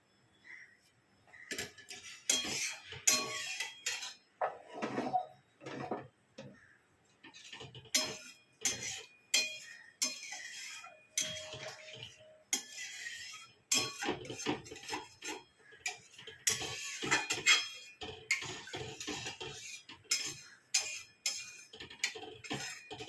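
A kadai is scrubbed and rinsed after cooking spiced curry, with irregular close metallic scrapes, clinks and knocks coming in bursts with brief pauses between.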